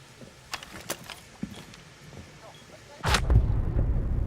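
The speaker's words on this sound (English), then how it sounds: "Yeah, I think he's shooting." Gunfire in a competitive video game: a few sharp, scattered shots early on, then a loud burst of heavy firing that continues to the end, with faint talk in the background.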